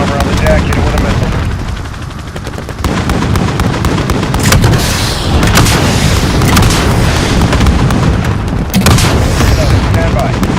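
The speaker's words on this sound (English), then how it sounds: "Hit him with a missile." A missile strike explodes on enemy armor during an attack helicopter mission in the 2019 Modern Warfare video game, with repeated loud booms and blasts amid steady rotor and gunfire din, under occasional radio chatter.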